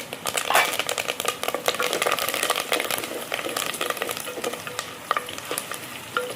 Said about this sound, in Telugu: కళ్యామాకు మంచిగా గోలింది